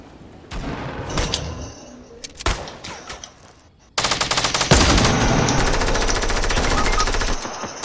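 Rapid automatic gunfire in Fortnite, loud and close, with a few bursts of rattling shots, then a long sustained burst of continuous fire lasting several seconds.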